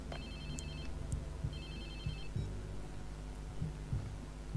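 A phone ringing in the video game Watch Dogs 2: two bursts of electronic ringing, one at the start and another about a second later, over a low ambient hum and soft thumps.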